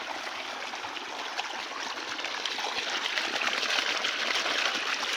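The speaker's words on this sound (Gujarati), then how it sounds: "અને પાણી જાય જો ધોરી સીધું" Steady rushing water flows continuously through an irrigation channel in a cumin field, a dense even hiss that grows slightly louder toward the end, with no voices.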